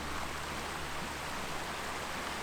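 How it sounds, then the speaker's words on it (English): Cascading water at Bridal Falls rushes in a steady, dense, close-up hiss, continuous and unbroken, with no voices. "the sound of the cascading water"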